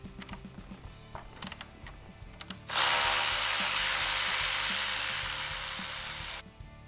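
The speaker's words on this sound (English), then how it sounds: "Use your Torx T30 wrench to remove these." A Torx T30 wrench turns out radiator bolts on a Harley-Davidson Pan America motorcycle: a few sharp clicks, then a loud, steady mechanical whir that runs for several seconds close by before stopping.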